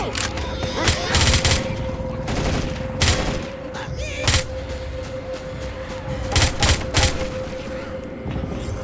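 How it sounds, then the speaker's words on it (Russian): Submachine gun fire in a first-person shooter on expert realism difficulty comes in several loud, close bursts of rapid shots separated by short pauses, over a steady background hum. "Пулемет."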